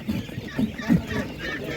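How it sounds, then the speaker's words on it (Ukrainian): Hens and roosters at a market cluck in a few short, low bursts close by, with faint background bustle. "Бачу, є півники і є курочки."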